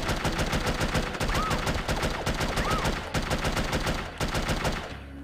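Rapid automatic gunfire rattles in sustained bursts in the video game No One Lives Forever, loud and dense with brief pauses between volleys, fading out at the end.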